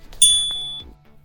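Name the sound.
notification bell ding sound effect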